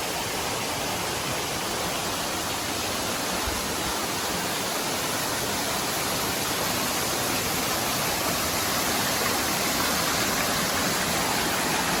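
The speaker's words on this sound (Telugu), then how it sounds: "మనకి ఈ సంవత్సరం మనం విజిట్ చేస్తున్న ఫస్ట్ వాటర్ ఫాల్" Water crashes down a stepped waterfall in a continuous roaring hiss, close and loud, holding steady with no voices over it.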